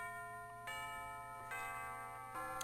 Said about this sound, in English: And that's the school bell.